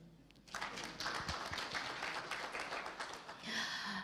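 A conference audience at an East African law society annual meeting breaks into clapping, a sustained patter of many hands that starts abruptly and carries on steadily at moderate volume across the room.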